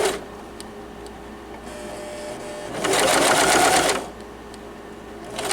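Sewing machine stitching a purse lining at stitch length and width 3, a steady mechanical whir with faint ticking that surges into a louder, faster run for about a second before easing back.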